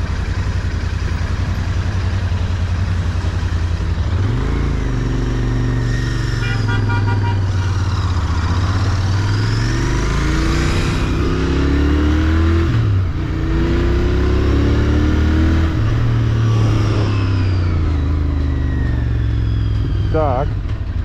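A Royal Enfield Interceptor 650 motorcycle engine drones steadily while riding, its pitch rising and falling through repeated accelerations and gear changes, loud and close under wind, with someone talking over it.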